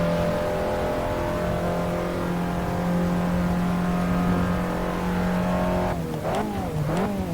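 An Abarth 500 Assetto Corse race car's engine drones loudly at steady revs from inside while driving, then near the end the pitch drops and swoops up and down through quick shifts and throttle blips.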